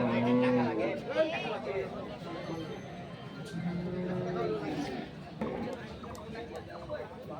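Cattle and bulls mooing amid busy crowd chatter at a Qurbani livestock market in Dinajpur, low drawn-out calls rising over steady talking nearby.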